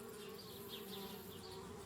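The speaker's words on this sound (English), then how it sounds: "Darn bees, trying to move into our treehouse." Bees buzz around a treehouse in the adventure game Anna's Quest, a soft, steady droning hum with fluttering swells, fairly quiet and without talk.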